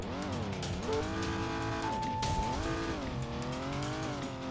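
A rally car in the Old School Rally video game, its engine droning steadily and rising and falling in pitch as it shifts, with tire squeal over the top and no talking.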